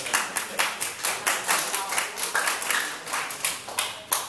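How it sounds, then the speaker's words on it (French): Audience applause at a French-language debate, heard as loud, close, rhythmic clapping in steady repeated bursts, with a faint voice under it. "Applaudissez."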